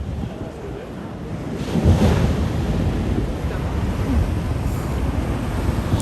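Ocean surf rolls and breaks at a famous wave break in Tahiti, a steady broadband wash with a swell near the two-second mark, mixed with wind buffeting the microphone.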